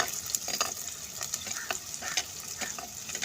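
Onions sauté in a pan, a steady close sizzle broken by repeated scraping stirs, with no one talking over it.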